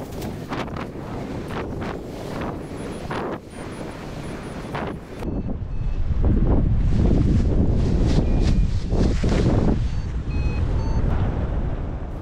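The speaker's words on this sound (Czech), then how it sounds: "Cestou na sever fouká silný protivítr." Strong headwind roars and buffets against the microphone while paragliding in Kilima, Kenya, growing louder and heavier midway, a continuous rushing gust with no voices.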